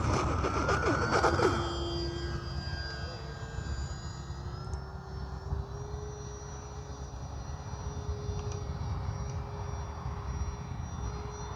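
An Arrows RC Sky Cruiser model plane flying in to land, its motor a steady droning whine that is loudest at first, then eases and holds at a constant distant hum as it descends.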